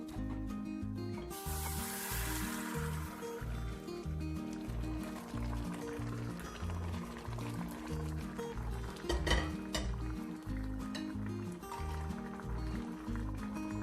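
Tofu slid from a wok into a preheated clay pot for a shrimp and tofu casserole with salted egg yolk, giving a brief soft hiss and splash under steady background music, with no talking.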